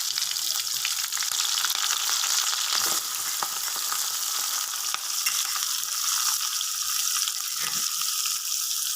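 Garlic, ginger, fennel, onion and curry leaves sizzle steadily in hot oil for prawn gravy, a dense continuous frying hiss with occasional stirring scrapes, close and unbroken.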